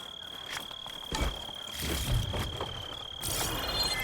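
Insect chirping from a cricket in the video game Horizon Forbidden West, repeated short chirps with a high steady tone over quiet game ambience, alone without speech.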